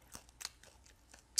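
Crispy fries being bitten and chewed, a few sharp, dry crunches spaced irregularly over a quiet background, close to the mouth and fairly faint.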